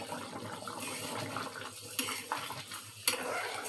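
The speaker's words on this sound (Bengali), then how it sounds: "একটু নেড়ে দেই।" Beef biryani meat being stirred in a pot, close metallic scrapes and clinks of a spoon against the pot over a bubbling, simmering hiss, with a few sharper knocks and no talk.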